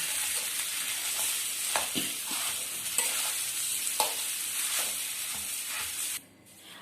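Potato mashed and stirred into sautéed onion in a pan for Mumbai street-style vada pav filling, a steady scraping, sizzling mix with soft spoon knocks, close and continuous until it drops away near the end.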